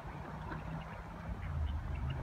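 A female mandarin duck with a half-broken tail feather gives soft, low, nasal calls up close, repeated over a steady murmur of background noise.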